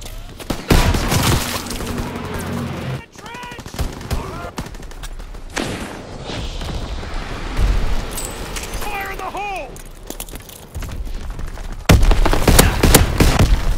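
Gunfire in Call of Duty WWII, with dense bursts of rifle and machine-gun fire and heavy booms throughout, loud and close, under shouted voices.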